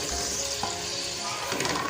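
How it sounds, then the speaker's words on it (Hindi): Chopped onions fry in hot oil in a pan for a beef kofta curry gravy, a dense, steady sizzle heard close and loud without a break. "अभी सबसे पहले इसमें हम डालेंगे जो हमारे पास प्याज है और इसको हम सॉफ्ट ब्राउन करेंगे।"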